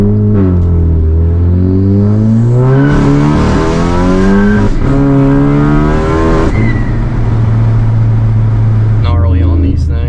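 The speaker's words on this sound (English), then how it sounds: "All right, we'll try for a second gear pull because it's not even worth it in first," A 400 hp VW MK6 GLI accelerating hard through second gear: the engine's note climbs steeply and loudly, drops at a shift, then climbs again up close, with a faint squeal near the end.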